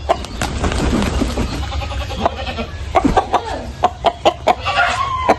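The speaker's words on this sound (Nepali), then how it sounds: "ओहो रातो भाले वाउ क्या चोक" A red rooster clucking close by, a run of sharp, separate clucks growing more frequent toward the end over a low outdoor background.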